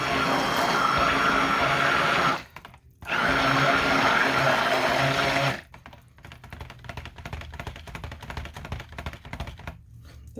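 A stick blender whirs steadily through cold process soap batter in two long runs with a brief pause between, then gives way to lighter clicking and rattling handling noises.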